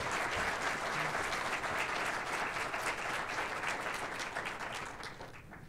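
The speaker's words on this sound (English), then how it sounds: "Can we please give her another round of applause?" Sustained applause from an audience at a university graduation celebration, dense and steady clapping filling the room at close range, tapering slightly toward the end.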